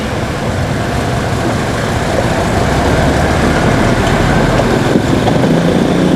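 Vehicles crossing a flood-damaged road between San Simon and Santo Domingo after monsoon rains, a constant close engine and road roar, with idling and passing motors blending into one dense wash and no talk.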